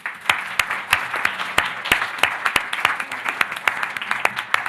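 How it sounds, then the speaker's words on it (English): An audience at a conference on protecting global internet infrastructure applauds the speakers. The clapping is steady and moderately sized, with sharp individual claps standing out close by throughout. "I invite you to join me in a round of applause for our speakers."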